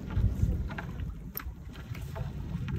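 A bangka boat being paddled across open water: low, steady sloshing and churning of water close by, with a soft wind rush over the microphone throughout.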